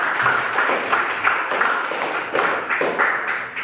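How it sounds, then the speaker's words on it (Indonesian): Classroom applause from students after a poetry-writing lesson, rhythmic clapping in repeated patterned bursts, moderately loud and close. "Tepuk tangan untuk kita"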